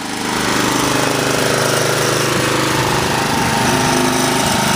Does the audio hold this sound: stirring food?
no